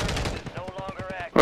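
Rapid automatic gunfire rings out in a multiplayer shooter video game, a fast run of evenly spaced shots firing close and loud, with a player's voice talking over the action.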